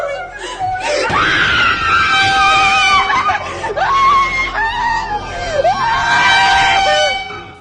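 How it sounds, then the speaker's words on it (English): A girl screams loudly and shrilly, with wavering, wailing cries that rise and fall over several seconds, close and intense. "They hear one of the girls scream from another room"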